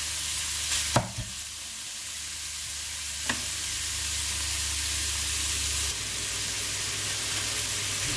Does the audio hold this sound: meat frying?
yes